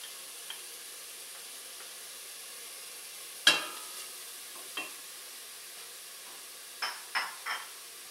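Chopped garlic and onion sizzle faintly in a pan over not-quite-medium heat, with a soft frying hiss broken by a few sharp utensil knocks and scrapes as the pan is stirred.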